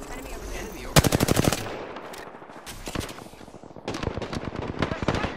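Bursts of rapid automatic gunfire from enemies in the Apex Legends battle royale game, one dense volley near the start and more rattling fire toward the end, with quieter gaps of game noise between.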